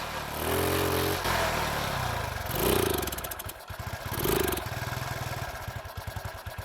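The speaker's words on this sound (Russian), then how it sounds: "При добавлении газа двигатель заглох" A motorcycle engine with a carburetor fault runs loudly close by, revving up and sputtering unevenly as throttle is added, its tone faltering toward stalling.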